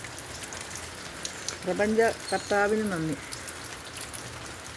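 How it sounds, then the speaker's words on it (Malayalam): Morning rain on a quiet day in Palakkad, a steady soft patter at moderate distance heard throughout, with someone speaking briefly over it in the middle. "കനപന പെയ്യാൻ തുടങ്ങി, ഇപ്പം നന്നായിട്ട് പെയ്യുന്നു."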